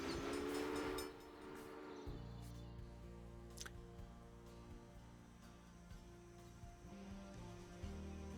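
Trains pulling into a station in the railway management game Railway Empire, with a horn or whistle blast at the start and then a low steady rumble of rolling stock under a thin clatter, faint and distant.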